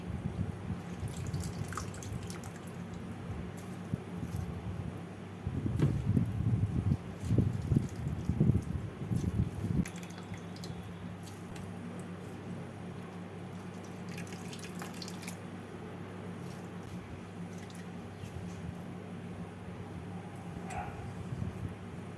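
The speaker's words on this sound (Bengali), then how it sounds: "এবার এই জল থেকে থোরগুলোকে চিপে অন্য একটা বাড়তে তুলে নিচ্ছি" Boiled banana stem is squeezed by hand so its cooking water splashes back into a pot. A faint, quiet kitchen background gives way to a few seconds of wet dripping and trickling in the middle, then settles back to near silence.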